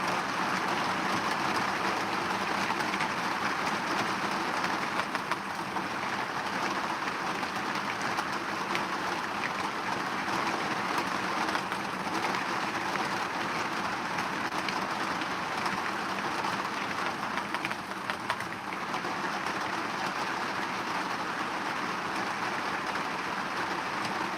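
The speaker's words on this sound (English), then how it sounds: "Can you still hear what I'm saying with all this rain going on?" Heavy rain pours steadily and loudly for the whole stretch, a dense continuous hiss and patter with no letup and no voices over it.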